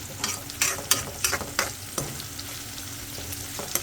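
Green chillies, onion and curry leaves with a little salt fry in hot oil for a potato fry, a steady close sizzle broken by several sharp stirring scrapes, no talk.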